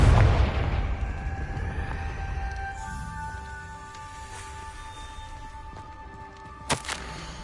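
An explosive Confringo spell cast in Hogwarts Legacy opens with a deep boom, then fades into ringing, shimmering tones, with a second sharp burst near the end.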